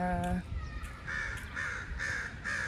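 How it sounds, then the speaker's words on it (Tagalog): A brief voice at the start, then a crow gives four harsh, evenly spaced caws in Edmonton, Alberta, Canada, fairly close and clear. "ayan guys may uwak"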